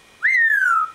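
A parrot gives one clear whistle that swoops up briefly, then glides slowly downward, close and fairly loud against a quiet background.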